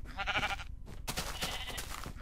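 Minecraft sheep give a brief bleat, then a clatter of other game sounds follows, short and moderately loud.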